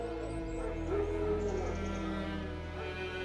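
Wild dogs in The Witcher 3 game bark, yip and whimper in a dense, continuous mix over a steady droning music bed, fairly close and moderately loud throughout.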